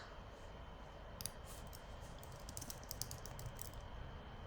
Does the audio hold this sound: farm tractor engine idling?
no